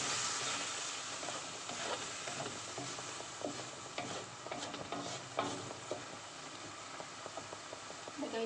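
Adobong sitaw with tofu cooking in a pan, a steady close sizzle and bubbling hiss with light clinks and stirring noises, at moderate volume throughout.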